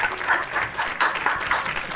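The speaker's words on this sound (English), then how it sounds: "give our great graduates a round of applause" Graduates at an online graduation ceremony receive applause over unmuted microphones, uneven pulses of clapping that swell and dip in bursts rather than a smooth roar.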